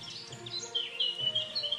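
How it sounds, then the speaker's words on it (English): Small birds in a park chirp and tweet in quick, thin high calls, scattered and fairly faint over a low background rustle, with no talking. "All kinds of little birds."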